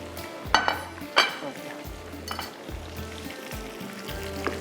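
Chicken tenders sizzle in hot oil in a home kitchen, a steady frying hiss broken by a few sharp clinks and scrapes of a utensil against the pan, with a low hum beneath.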